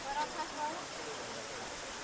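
Clear water falling from a mountain and flowing as a stream near the Living Root Bridge in Meghalaya, a steady hiss of moving water, with a few faint whistle-like tones early on.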